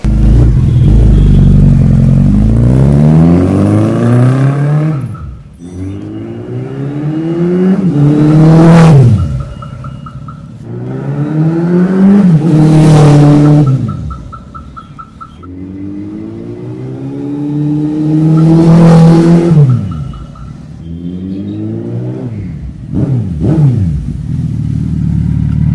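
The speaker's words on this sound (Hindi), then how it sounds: "अब इस बाइक को चलाने की बारी आ चुकी है" A 2019 Suzuki Hayabusa motorcycle being ridden, its engine loud and close, winding up repeatedly through rising revs with gear changes and brief drops between pulls, no talking over it.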